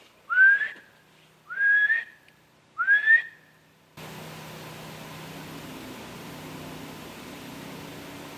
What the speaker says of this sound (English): I'll do a little whistle.